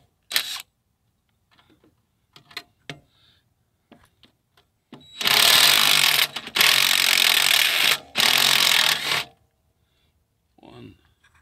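Bolts, about 12 or 13 mm, are cracked loose with a wrench on a Suzuki S40 Boulevard motorcycle. Three loud, sustained bursts of ratcheting and grinding follow scattered clicks and clinks of tool handling in an otherwise quiet space.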